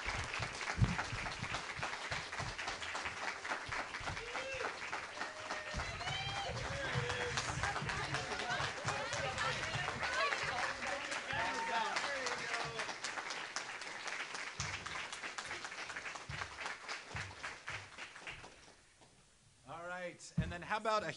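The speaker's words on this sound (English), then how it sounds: "how about we bring all the storytellers up on the stage for a huge round of applause?" Applause and cheering from a high school story slam audience as storytellers gather on stage, broad steady clapping mixed with shouts and a voice over it, fading briefly near the end before picking back up.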